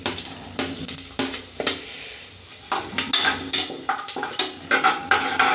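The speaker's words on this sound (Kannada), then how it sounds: "ಇದನ್ನು ಫಸ್ಟ್ ಚೆನ್ನಾಗಿ ಫ್ರೈ ಮಾಡ್ಕೋಬೇಕು" Cloves and cinnamon tossed in a pan for biryani, with repeated metallic clinks and scrapes of a utensil against cookware, close and fairly loud, in irregular bursts with no talking.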